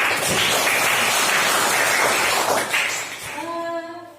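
A group in a classroom counselling session gets a brief burst of clapping that fades out, followed by a sustained tonal note at the end.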